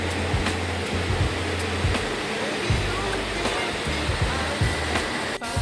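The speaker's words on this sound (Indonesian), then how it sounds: "Air terjunnya memang hanya setinggi 3 meter saja, namun memiliki aliran air yang sangat deras dan jernih." Strong, clear water pouring down the small three-metre Curug Putri waterfall at Carita, Pandeglang, a steady close roar of rushing water with low rumbling underneath, continuous and unbroken throughout.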